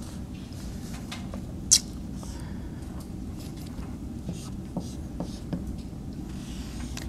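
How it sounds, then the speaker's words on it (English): A marker squeaks and scratches across a board as orbital diagrams are sketched during an organic chemistry lecture, faint intermittent strokes over a low room hum, with one sharper tap. "Let me see if I can sketch this out here."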